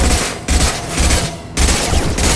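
Heavy gunfire from the video game Mass Effect Legendary Edition: loud, dense automatic bursts in three long volleys separated by brief gaps, close and dominating the mix.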